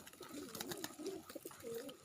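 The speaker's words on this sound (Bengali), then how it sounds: "দেখেন কবুতর আমার একেবারে নিকটে।" Pigeons cooing right beside the listener, with several soft, throaty rolling coos overlapping in close succession over a quiet background.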